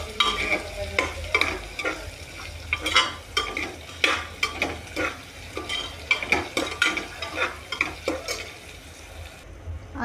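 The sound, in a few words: stirring masala rice with chopped coriander in pan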